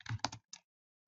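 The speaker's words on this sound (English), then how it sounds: "Then you're going to type in ADB devices." Quick keystrokes on a computer keyboard entering an ADB command, a short burst of several close, crisp clicks followed by one final tap, then silence.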